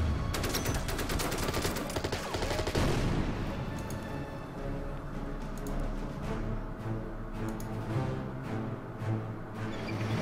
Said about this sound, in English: Panzer IV takes a shot.